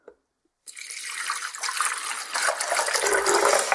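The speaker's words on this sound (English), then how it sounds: "pour the water in" Water is poured into the reservoir of a coffee maker, a brief click and silence, then a continuous splashing pour that starts abruptly and grows fuller and louder as it fills.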